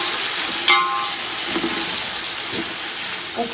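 Beef pickle ingredients, curry leaves among them, sauté in a pan with a steady close sizzle and faint stirring scrapes, no talking over it.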